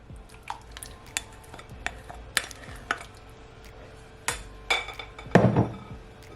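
A spoon stirs tinned mackerel into a thick, creamy Jamaican rasta pasta sauce in a pot, giving scattered scraping clinks and knocks against the metal, with no talking.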